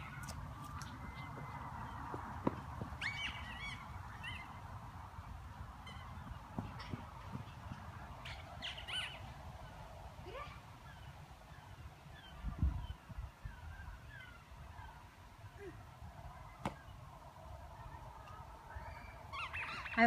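Birds call at the beach, sharp honking and squawking cries scattered across a quiet, distant background with faint rumbling and occasional thumps nearby.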